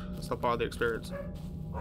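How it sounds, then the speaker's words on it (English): A dog barks in the background of a gaming session, a few quick yips and barks while someone talks over them up close. "I do apologize if you hear a dog barking in the background."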